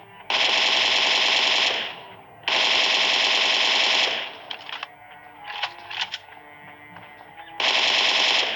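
Rapid automatic gunfire in a battle-royale shooter game at Pochinki, loud close bursts of a few seconds each separated by quieter gaps with a couple of faint distant shots, no talking.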